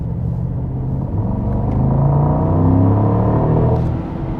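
A Mercedes-Maybach SL 680 accelerates in sport mode on the Autobahn at night, its engine note rising as a deep, swelling rumble heard from the cabin, then easing slightly at the end with no talking.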